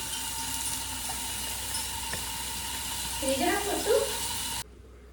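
Food frying in a pan while a vegetable curry is cooked, a faint steady sizzle with a brief burst of stirring scrapes near the end before it cuts to near silence.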